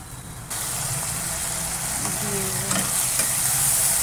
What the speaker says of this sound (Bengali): রসুনের মধ্যে চিংড়ি মাছগুলো দিয়ে দিয়েছি, নুন হলুদ মাখানো।